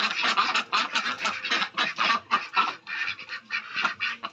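Pet ducks kept by the owner quack and call in a dense, continuous chorus, many birds close by, loud and overlapping with steady rhythmic bursts throughout.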